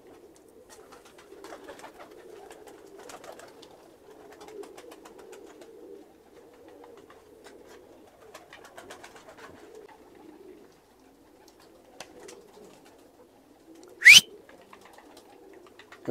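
Pigeons coo softly and repeatedly in a quiet indoor loft, with low rolling calls throughout and a single sharp knock or click standing out near the end.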